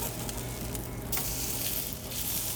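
Continuous loud sizzling and crackling of a burger frying in a hot pan on medium-high heat, steady and close, with no talking.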